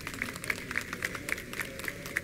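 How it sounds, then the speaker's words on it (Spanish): Scattered audience applause at a technology conference, CPMX4, welcoming a speaker; moderately faint, uneven claps with a steady crowd backdrop and some repeated brighter hits over a bit more than two seconds, no talking. "Vamos a brindarle un fuerte aplauso"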